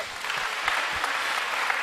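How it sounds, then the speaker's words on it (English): Audience applause at an opera concert and symposium event in Kimberley, Northern Cape, with dense, steady clapping from a large crowd in a hall, moderately loud and sustained for the whole moment. "Give them a round of applause."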